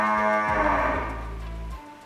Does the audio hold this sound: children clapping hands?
no